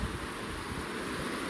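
Water rushing steadily at a waterfall on a long mountain hike, a continuous broadband roar with no breaks, fairly loud and close.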